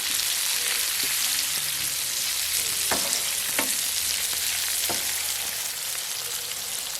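Onion, green chili and garlic frying in a pan, a steady crackling sizzle throughout with a few sharp spatters and stirring clicks, no voices.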